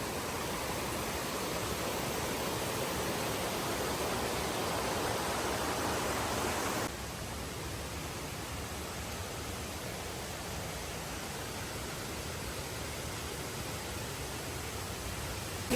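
A rushing waterfall at Maragusan roars as steady broadband noise that runs without a break and eases slightly partway through. No voices are heard.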